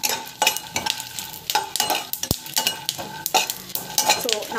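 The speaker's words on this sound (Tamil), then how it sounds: "மிளகா வந்து பார்த்திங்கன்னா அந்த ஆயில் வந்து ஃப்ரை ஆகணும்." Red chilies frying in oil in a home kitchen pan, with crackling sizzle and repeated scraping stirs of a utensil against the pan, including one sharp metallic knock partway through.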